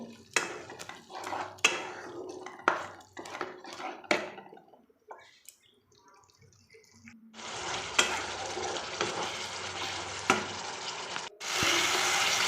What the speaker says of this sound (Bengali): টমেটো বাটাটা এর মধ্যে দিয়ে দেবো দিয়ে আবার কষাবো